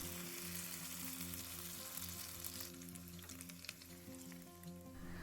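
A thin, pancake-like layer of potato batter fries in a pan with a steady soft sizzle, heard beneath continuous background music.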